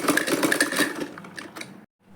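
A sewing machine stitches a ladies' handbag in short bursts of rapid, rhythmic needle clatter, close and fairly loud, stopping abruptly near the end.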